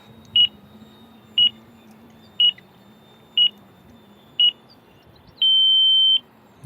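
An electronic flight timer alarm, used while flying an E-Flite Air Tractor model plane, sounds five short evenly spaced high beeps about once a second and then one long sustained beep, loud and clear over a low steady hum.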